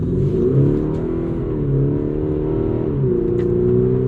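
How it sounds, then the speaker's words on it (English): A 2022 Audi SQ5 V6 engine revs hard, pitch climbing and dropping through gear changes, loud and close with a steady droning whine. "Probably not helped that I'm booting the car"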